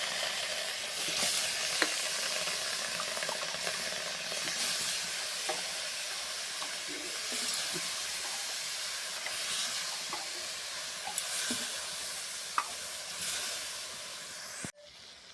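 Cabbage and raw potato cooking in a pan, a steady hissing sizzle with occasional faint stirring clicks, close and continuous with no voices, cut off abruptly at the end.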